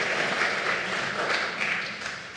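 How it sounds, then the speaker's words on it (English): Audience applause after an organ concert in Bishop Gadsden Chapel, a dense, steady wash of many hands clapping that stays loud throughout and eases slightly toward the end, with no talking. "please give a round of applause to both of them"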